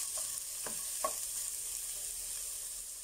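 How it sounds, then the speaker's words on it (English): Onions sautéing in a pan give a quiet, even hiss of sizzling oil, with a few soft utensil taps early on and nothing else over it. "Saute until onions are soft."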